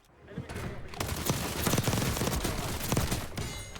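Akimbo Stinger guns in the Warzone video game firing fast, dense bursts that carry nearly unbroken through the clip, loud and close.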